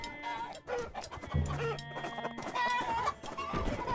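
Chickens cluck and squawk in the Totally Accurate Battle Simulator video game, with several bird calls over battle noise and game effects and a brief low thump, while a voice speaks now and then.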